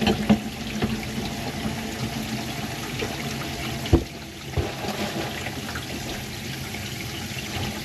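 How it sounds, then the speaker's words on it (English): Water drains from two full mobile home sinks at once, a continuous gurgling trickle and rush with a brief clunk near the middle, close by and with no voices. "now we're going to pull the plugs and see if we can make this thing leak with both sinks full,"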